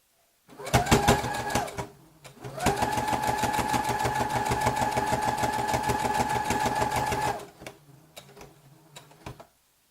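A sewing machine stitches over the handles of an embroidered tote bag, running loud and close in a short burst, then a long steady rattling run before stopping, with no talking.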